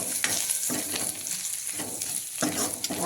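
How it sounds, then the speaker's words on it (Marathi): A tempering of spices for yogurt kadhi is sautéed in a pan, with a close sizzle broken by rhythmic scraping stirs that come roughly every half second to second. "आता ही फोडणी चांगली अशी परतून घ्यायची"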